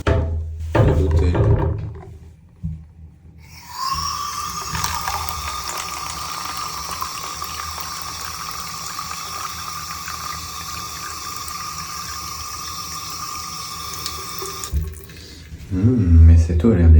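Hotel tap water running into a glass in Los Angeles, a steady rushing fill lasting about ten seconds with a rising ringing tone, bracketed by people talking before and after.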